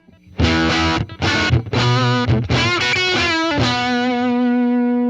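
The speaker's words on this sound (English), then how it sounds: "I have the amp set with a distortion pedal, so I got a little bit of gain going" Distorted electric guitar through a distortion pedal and amp, bridge pickup, plays loud chords, a few short strums then a sustained ringing chord that slowly fades, with no talking.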